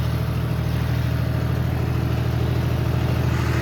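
A John Deere 5038D tractor engine runs at a set 1700 RPM in fourth low gear while pulling a cultivator through field soil, producing a steady, even mechanical drone that is close, constant and free of talk.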